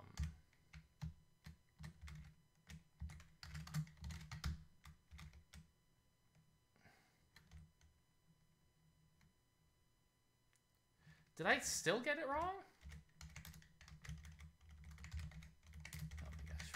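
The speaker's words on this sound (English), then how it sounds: "Oh my gosh, forgive my terrible typing." Typing on a computer keyboard while coding, rapid clusters of close key clicks in uneven bursts with pauses, and a person briefly talking over it.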